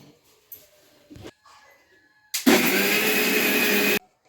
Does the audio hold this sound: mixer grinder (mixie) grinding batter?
yes